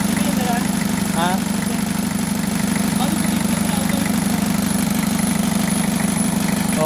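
A Toyota L engine idles steadily after starting up again following two years without running, a loud, even low rumble with mechanical vibration throughout, and people talk over it.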